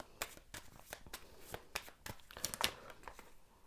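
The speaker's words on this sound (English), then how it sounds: "I'm gonna shuffle a little bit more about what he looks like." Tarot cards being shuffled by hand, a close, quiet run of papery flicks and riffles with small bursts, no talking.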